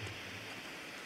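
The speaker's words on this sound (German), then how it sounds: "diese Fackeln, die sind auch so laut" A burning torch in the video game The Long Dark gives off a faint, steady hiss and crackle like light rain, continuous and quiet with no voices.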